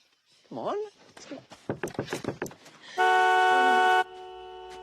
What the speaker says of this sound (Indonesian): menyalakan klakson mobil untuk meminta tolong